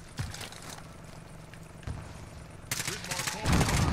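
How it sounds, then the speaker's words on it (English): Gunfire and explosive bursts from an airstrike in a battle-royale shooter video game, with several loud blasts and a heavy boom at the end, under intermittent voices. "I'm gonna airstrike them."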